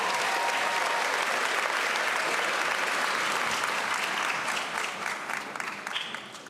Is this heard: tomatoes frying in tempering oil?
no